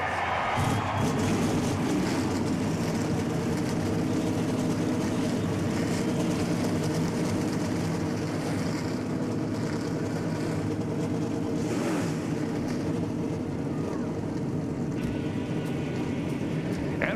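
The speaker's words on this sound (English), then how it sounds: "Gentlemen, start your engines!" NASCAR stock car engines roaring to life at the 2008 Budweiser Shootout, a dense sustained rumble of many engines with revving swells, heard loud and continuous.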